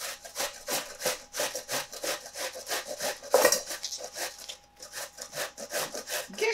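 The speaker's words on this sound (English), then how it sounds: "So let's get started on grating this onion." An onion is grated by hand in rapid, rhythmic rasping strokes, close and fairly loud, repeating steadily throughout with no talk.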